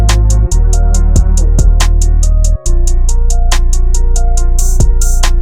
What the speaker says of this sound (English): Then we have a synth coming in from Jupiter 8V. This is the warm and dark preset